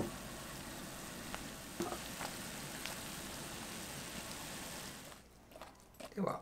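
Syrup with sliced lemon and orange boils in a pot, giving a steady soft bubbling hiss with a few small pops for about five seconds before it goes quiet, and some faint clatter near the end.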